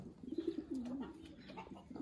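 Belgian racing pigeon cooing close by, low warbling coos repeated in a soft continuous run over about two seconds, with faint background rustle.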